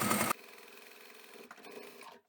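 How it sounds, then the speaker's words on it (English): A sewing machine stitches fabric near a hanger while a shoe rack is made, starting with a loud burst, then a softer steady whir with a few brief surges before it stops. "I'll stitch as close to the neck of the hanger as I can and close up the rest of that opening"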